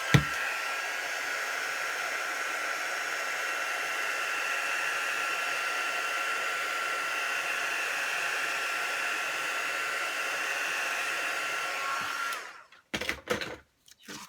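A hair dryer blows steadily and close for about twelve seconds, drying gold ink on a handmade autumn card, then cuts off abruptly, leaving a few clicks and handling noises.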